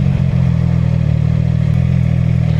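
Steady, loud engine drone from a CFMOTO 675SS sport motorcycle while riding, a continuous low hum with wind rush and no talking.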